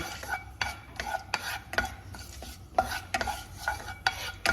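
Chana being stir-fried in a pan with repeated rhythmic scraping and clinking strokes of a spoon against the metal over a faint sizzle, close and fairly quiet, no voices.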